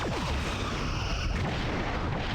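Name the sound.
torpedoes launched, from video game Star Trek Bridge Commander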